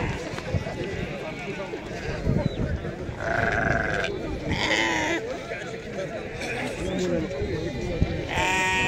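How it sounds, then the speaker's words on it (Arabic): Sheep bleat repeatedly amid a busy livestock market crowd, several calls standing out over a steady murmur of voices and shuffling. "شوفوا هذا غنم هنايا"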